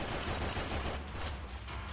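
Continuous dense gunfire in the Max Payne shooter roars as overlapping shots and heavy rumble, loud and sustained throughout, fading slightly toward the end.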